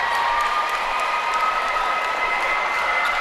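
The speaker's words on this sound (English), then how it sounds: "the crowd begins to file out of Westview's gymnasium" Murmuring crowd steadily filing out of a school gymnasium after a high school basketball game, a continuous mid-level chatter and shuffle with no distinct cheers.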